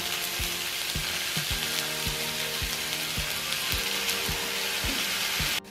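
Onion and garlic frying in pure mustard oil, a steady bright sizzle broken by regular knocks of a spoon or spatula against the pan, close and loud, with no one talking.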